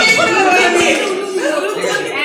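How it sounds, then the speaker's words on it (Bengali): Several women ululate together at a prize-giving event, a loud, close, warbling chorus with trilling pitches that waver up and down, holding steady throughout. "উলুধ্বনি।"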